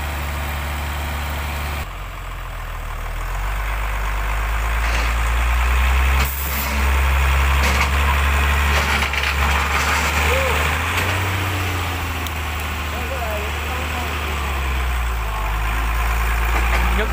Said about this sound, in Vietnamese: Chiếc xe sau thì đang kéo cáp nhé.